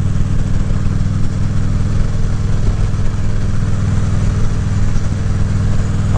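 Motorcycle engine drones steadily while riding in summer heat, a loud, constant low rumble with wind noise and no speech.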